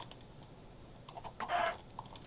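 A chicken in a video game server clucks briefly, a few soft notes followed by a louder, longer squawk near the middle over a quiet background.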